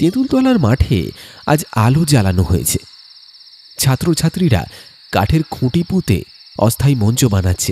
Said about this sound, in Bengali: মাঠের চারপাশে ঝিঝির ডাক